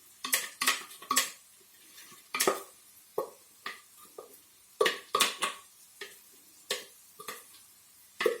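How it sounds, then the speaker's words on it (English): Grated carrots for gajar halwa stirred in a pot, with a utensil striking and scraping the pan in repeated sharp clacks at an uneven rhythm, close and fairly quiet, with no talk. "Give that a nice stir once it's all in."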